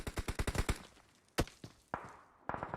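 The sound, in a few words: gunfire in a video game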